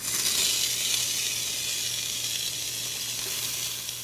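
Onions hit hot frying rice in a pan on the stove, giving a steady, loud, even sizzle that holds for the whole stretch with no talk over it.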